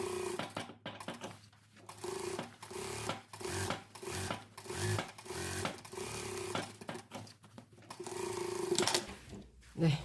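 A sewing machine runs a thin line of topstitching on the sleeve of a white blouse, running in short stitching bursts with brief pauses between them, close and steady.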